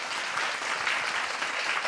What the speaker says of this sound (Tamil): நன்றி பத்தாது நல்லா நிறைந்த கைத்தட்டு